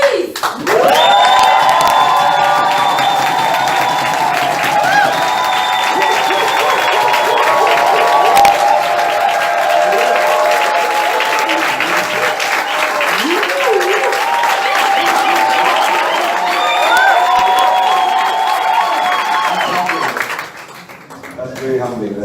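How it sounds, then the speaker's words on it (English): An audience erupts in loud, sustained applause and cheering to welcome a speaker on stage, dense clapping with whoops and shouts filling the room for about twenty seconds before tapering off at the end. "please help me welcome with the loudest, biggest, maybe on your feet, most joyous and crazy applause"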